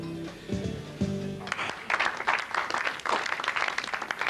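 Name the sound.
audience applause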